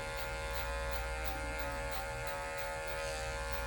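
Electric hair clippers buzz steadily and close up with the full blade while cutting a fade, a constant motor hum with slight rhythmic swells as the blade scoops through the hair.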